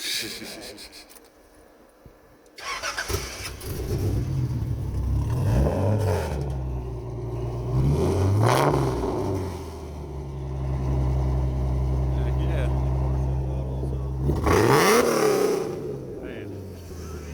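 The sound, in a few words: Nissan 200SX car engine revving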